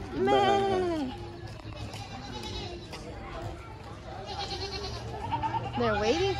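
Goats on a farm bleat loudly near the start and again at the end, wavering cries over a busy background of chatter and voices.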